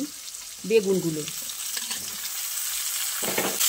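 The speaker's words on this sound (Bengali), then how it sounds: "কুমড়োটা একটু হালকা করে ভেজে নিয়ে এর মধ্যে দিয়ে দিচ্ছি" Pumpkin pieces fry with potatoes in a pan, a soft continuous sizzle with a couple of brief stirring clatters near the start and end.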